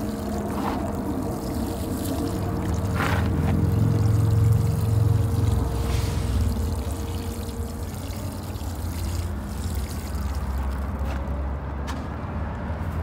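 Water pours steadily from a hose or can onto soil around a newly planted banana pup in a garden, a continuous trickling rush with a low hum beneath and no talking.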